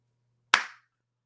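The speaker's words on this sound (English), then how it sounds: "I put that clap in there" One sharp, close hand clap rings out alone against near silence, decaying quickly in a small room.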